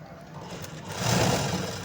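A sewing machine whirs steadily as it stitches a blouse shoulder seam, a close continuous mechanical hum that swells slightly in speed halfway through.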